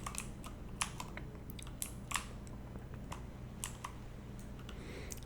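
Computer keyboard typing with scattered, irregular key clicks and taps at close range, faint and alone against a quiet background hum.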